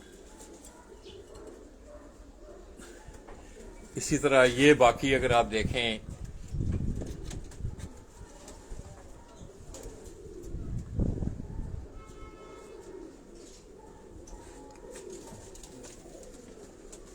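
Pigeons coo in a rooftop loft, with a loud close burst of cooing followed by softer scattered calls, while someone talks over them.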